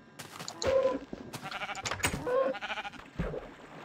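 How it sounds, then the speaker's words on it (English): In Minecraft, several sheep bleat in quick succession, wavering calls that overlap and repeat, fairly close and loud. "There's a sheep!"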